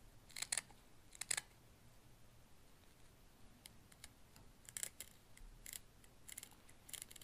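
Scissors snip through carbon fiber weave between the threads, giving a few faint, quiet clicks and crisp cuts spaced apart against near silence.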